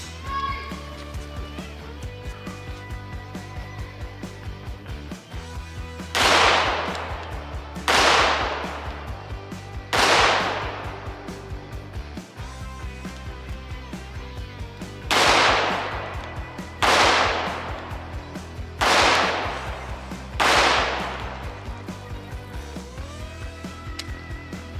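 Seven loud, sharp .45 ACP pistol shots with 230-grain full metal jacket rounds, fired at a cast iron Peerless 2300 transmission. They come in two spaced clusters, each crack ringing out over a steady low background hum.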